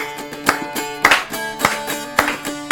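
Several sharp claps land in a loose, steady rhythm, each ringing out briefly over a sustained musical tone in the background.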